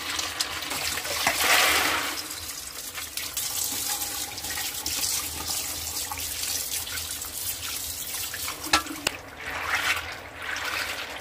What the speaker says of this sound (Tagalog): Hugasan muna natin siya sa malamig na tubig.